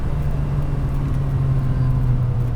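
A 2003 Ferrari 575M V12 grand tourer pulls smoothly under acceleration, its engine a steady low drone heard from inside the car with road noise.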